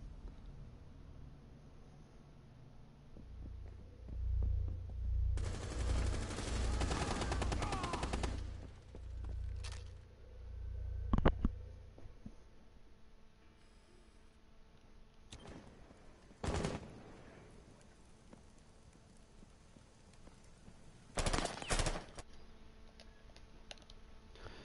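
Gunfire in a Rainbow Six Siege match, starting with a sustained automatic burst lasting several seconds. Sharp isolated shots follow later, along with a short double burst, against a quiet, tense background.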